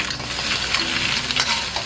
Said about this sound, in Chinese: 锅里我们就倒入一些食用油，接下来我们就把这个鸡爪放上去，给它翻拌均匀